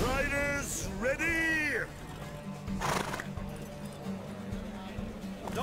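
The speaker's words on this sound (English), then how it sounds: "Don't spare the horse!" Horses whinny loudly twice over a steady clip-clop of hooves in a horse race in the video game The Witcher 3: Wild Hunt, with galloping continuing as a rumbling rhythm; a voice speaks briefly at the start.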